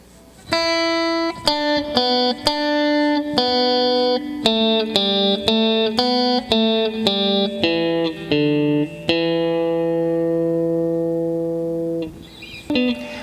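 A slow, clean electric guitar funk rhythm riff of plucked single notes, each ringing briefly before the next, ending on a long sustained note that fades out.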